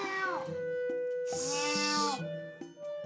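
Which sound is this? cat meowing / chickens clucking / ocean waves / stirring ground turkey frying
cat meowing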